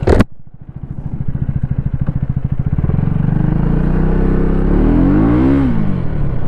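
A 2024 Husqvarna Vitpilen 250 motorcycle engine starts with a sharp burst, then idles in a rapid, throbbing exhaust putter that swells into a steady, rising rev, loud and close.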